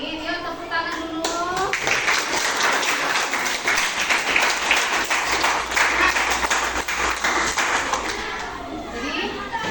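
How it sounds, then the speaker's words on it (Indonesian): Students in a biology classroom clap together, a brief burst of children's voices first, then a sustained round of mixed clapping with chatter, fading near the end. "Yuk, tepuk tangan dulu."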